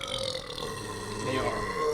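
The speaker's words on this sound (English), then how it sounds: "It was a very sensual burp." A long, low, gurgling burp after drinking seltzer rumbles close to the microphone for about two seconds, loud and drawn out, with a voice briefly audible around it.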